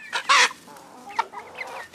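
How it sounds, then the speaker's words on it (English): Hens and their chicks clucking up close, a loud burst of fowl calls followed by softer scattered clucks and chick peeps. "this is a regular size, like our regular size hen, and here's the babies"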